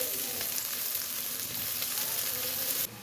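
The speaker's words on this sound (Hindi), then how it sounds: "पैन के अंदर डालेंगे ऑयल। 2 बड़े चम्मच ऑयल पे डाल दिए। इसके अंदर डाल देंगे प्याज।" Onions crackle and sizzle steadily in hot oil in a pan, a continuous bright frying hiss at moderate volume with no voices.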